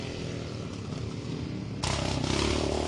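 A 2006 Honda XR650R dirt bike rides off-road on rough trail, its engine note droning steadily up close, then growing louder and harsher partway through as the rider gets on the throttle, with clatter from the terrain.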